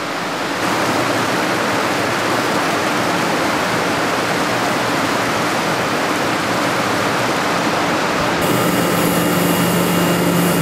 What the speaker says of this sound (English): This is one of our cooling water pumps.